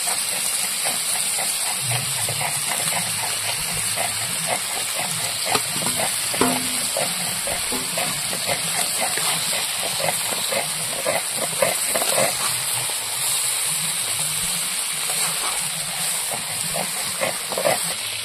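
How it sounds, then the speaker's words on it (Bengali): Fried potatoes stirred into sizzling chicken curry cooked over a wood fire, with a loud, continuous frying hiss and repeated soft scraping strokes of the spoon throughout. "এবার এর মধ্যে ভেজে রাখা আলুগুলো দিয়ে দেবো।"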